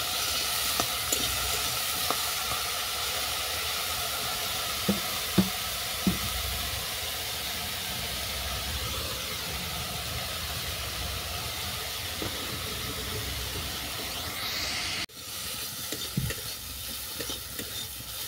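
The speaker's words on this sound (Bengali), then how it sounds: "লবণ দিয়ে আর একটুখানি ভেজে নিচ্ছি।" Apple chutney fries in a pan with salt just added, a steady sizzle and hiss under repeated stirring scrapes, close and even throughout, with a brief drop near the end.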